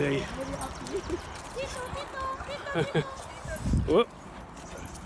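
Dogs met on a walk, whimpering and yipping in short high whines and a few small barks, close by, mixed with rustling movement and a person's voice talking over them.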